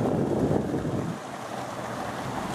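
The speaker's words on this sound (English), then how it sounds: "you can see here where Machine Creek overflows and continues its way down the hollow" Steady, broad rushing of creek water overflowing and running down a wooded hollow in Southern Virginia. It sounds like a continuous wash of flowing water, slightly louder at the start, with no voices.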